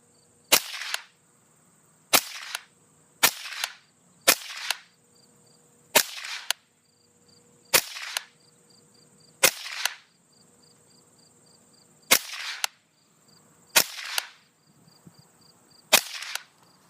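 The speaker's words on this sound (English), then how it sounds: "we're going to see what our 10-shot group looks like when we get done" Ten sharp Smith & Wesson M&P 15-22 rifle shots fired from a rest at a target 50 yards away, spaced unevenly one to two seconds apart, each crack standing alone over a steady insect-like hum.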